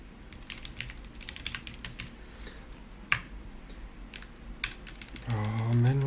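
A computer keyboard is being typed on steadily at close range, giving a run of crisp, irregular key clicks over a low steady hum before a louder tonal sound enters near the end.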